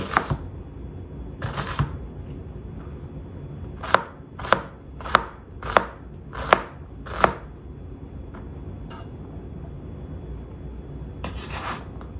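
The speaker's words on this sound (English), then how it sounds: "I want to cut this up so it's small pieces" A knife chops onion into small pieces on a cutting board for a tomato cucumber salad, with a quick run of six evenly spaced, crisp, close knocks framed by a few softer scraping cuts.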